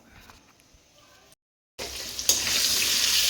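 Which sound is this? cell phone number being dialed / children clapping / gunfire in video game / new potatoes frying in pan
new potatoes frying in pan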